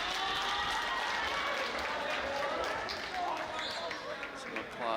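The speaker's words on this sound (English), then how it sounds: "Some applause there on the Raiders bench." Clapping along the bench during a high school boys' basketball game in a gym, mixed with crowd murmur, squeaks and ball bounces, while a commentator talks over it.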